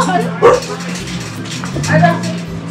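A dog yips and barks in a few short bursts amid a lively household greeting, with people talking excitedly over it and a steady low hum underneath.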